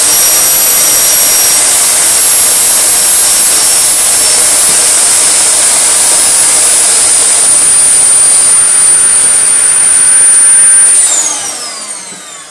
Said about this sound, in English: That is a Dyson YDK motor that has burnt out probably after being left outside in winter for 4 months.